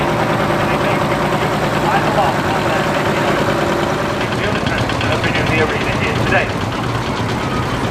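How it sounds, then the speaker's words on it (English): A single-cylinder two-stroke diesel partial lock engine of about 3.5 litres, with a bore just over six inches, runs steadily at a tractor show, its loud rhythmic thumping continuous throughout, with voices talking over it. "2-stroke diesels. They're also known as partial lock engines."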